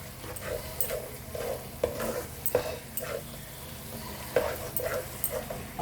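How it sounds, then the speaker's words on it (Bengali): Mutton with spices sizzling in a pan while it is stirred and fried, a steady crackle broken by repeated scraping and clattering strokes of a spoon against the pan, close and fairly loud, with no talk. "মশলা দিয়ে আমি ভালো করে কষবো।"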